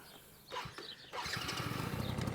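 A 1985 Yamaha TRY 50cc two-stroke motorcycle with a small exhaust pipe and manual choke is started by its start button, a short cranking burst followed by the engine catching into a buzzing, rattling idle, fairly quiet and close.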